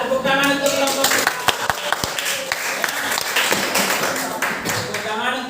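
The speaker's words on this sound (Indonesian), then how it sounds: "Tepuk tangan untuk kelompok 4." Classroom applause for a student group, a dense burst of many hands clapping with sharp individual taps, sustained evenly throughout and mixed with some talk.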